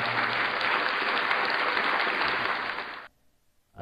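A canned applause effect fired from a soundboard button: a dense crowd clapping and cheering at steady loudness for about three seconds, then cutting off abruptly into near silence.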